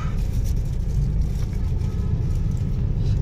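Steady low road rumble from inside a car in heavy traffic near a junction on the Nellore to Tirupati route, a constant engine and tyre drone with faint passing sounds.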